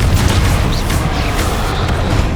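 A Confringo fire spell blast in Hogwarts Legacy, a loud, heavy booming burst with rumbling low end that fills the short moment continuously, with no one speaking over it.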